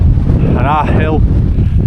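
Strong wind buffets the microphone on Grange Fell in the Lake District, loud low rumbling gusts that sound close and constant while someone talks over them.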